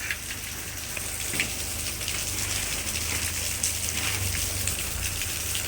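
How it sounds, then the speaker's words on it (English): Steady rain patters and hisses across a surface, a continuous dense wash of drops with a low rumble beneath, no voices. "it is raining right now"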